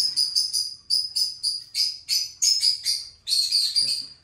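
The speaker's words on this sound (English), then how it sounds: "That's the birds in the background." Several pet birds kept indoors chirp in quick, bright bursts, a rapid run of close, repeated tweets with no other sound beneath them.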